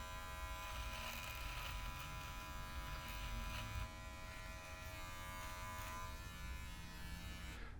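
An electric beard trimmer buzzes steadily and close up while trimming a mustache, a continuous motor whine that barely shifts in pitch for the whole stretch.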